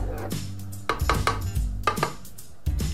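A spoon knocks and scrapes against a pot of boiling milk after vinegar has been added, giving several distinct clinks and stirring clatters in uneven bursts, close by and without talk.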